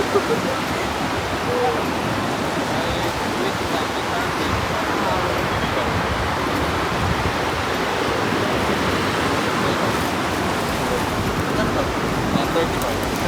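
Steady roar of surf washing in at a beach in Lingayen, Pangasinan, a constant broad rush with no clear breaks, loud and close.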